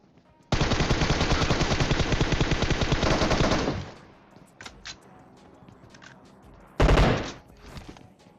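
Automatic gunfire from the PUBG video game: a loud, sustained burst of rapid shots for about three seconds, followed by a few scattered fainter shots and then a short final loud burst.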